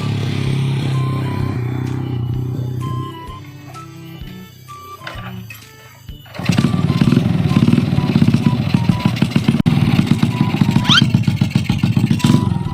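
A motorbike engine runs nearby, low and uneven at first. About halfway through it turns into a louder, steady, pulsing putter with some background noise.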